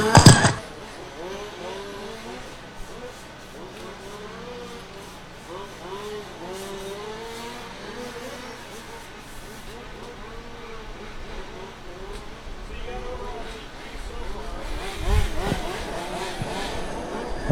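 Race cars circling a track during a cancer benefit race, engines droning and revving continuously at a middle distance, with louder bursts at the start and near the end as cars pass.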